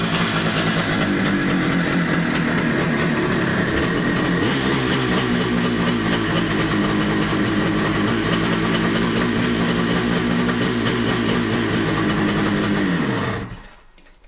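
A small engine running steadily at a loud, even idle after being started with the ignition, its throaty pulse holding for about thirteen seconds before it cuts off abruptly at the end.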